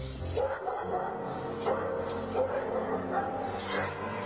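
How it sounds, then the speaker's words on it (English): Two trained guard dogs bark and yip repeatedly at a property, their sharp, fairly close calls coming in bursts over a busy, noisy background. "This daredevil didn't count on 2 guard dogs who were trained to defend their property."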